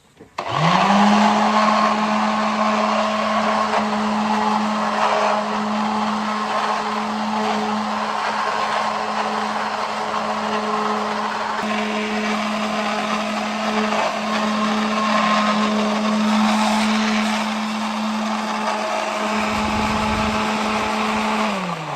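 A power sander works on wood during a building project, a steady loud whine running unbroken for about twenty seconds before winding down near the end.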